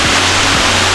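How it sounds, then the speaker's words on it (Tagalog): Misibis Falls, a waterfall beside the beach in Quezon Province, Philippines, roars as a loud, dense wash of rushing water that fills the whole moment at close range. "eto po ang falls"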